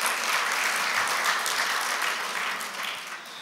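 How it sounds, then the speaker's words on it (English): A church congregation applauds its new minute secretary, Alison Peterson, with steady, dense clapping that holds for several seconds and eases slightly toward the end. "she's going to give her a clap"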